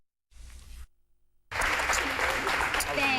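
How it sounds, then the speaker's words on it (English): Audience applause breaks out at a poker table, a brief burst of noise then a gap before loud, dense clapping swells in and holds steady to the end. "No applause for that hand, please."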